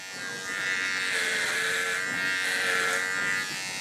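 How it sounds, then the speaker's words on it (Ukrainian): Close, continuous buzzing of a VGR V-082 electric hair trimmer as it cuts through hair, humming steadily for nearly four seconds with slight swells in loudness. "бритва стриже дуже добре"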